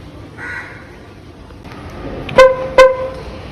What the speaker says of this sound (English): So this is how the car sounds with one horn, and this is how it sounds with dual horn.